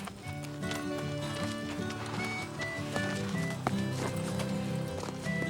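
Hooves of Strawberry, a gentle horse being ridden slowly by a beginner, clip-clop in a steady rhythm over a bed of light background music.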